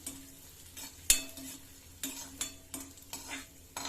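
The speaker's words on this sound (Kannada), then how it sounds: "ಈಗ ಒಣ ದ್ರಾಕ್ಷಿ ಹಾಕೊಂಡ್ಬಿಡ್ತೀನಿ, ಫ್ರೈ ಮಾಡ್ಕೊಳ್ಳಿ" Cashews and raisins frying in a pan for a sweet flattened-rice offering, heard as a soft steady sizzle with repeated clinks and scrapes of a spoon stirring against the pan, close by, with no talking.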